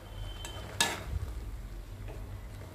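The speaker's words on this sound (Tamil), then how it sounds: "நம்ம மேலே இருக்கிறதெல்லாம் கீழே வர மாதிரி இந்த மாதிரி பெரட்டி விட்டுக்கலாம்" Arai keerai spinach is turned over in a cooking pan, giving soft stirring scrapes under a faint sizzle, with one sharp utensil clink near the start.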